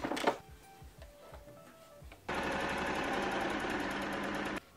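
A sewing machine stitches the front and back pieces of a vintage bralette together, running in a steady rapid mechanical chatter for about two seconds after a few quieter handling clicks.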